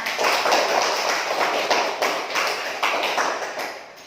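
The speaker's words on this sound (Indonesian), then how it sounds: "Tepuk tangan buat kita semua." Pupils in an Indonesian classroom clap together at the end of a lesson, a dense, steady patter of many hands that holds for several seconds with a faint rhythmic pulse running through it.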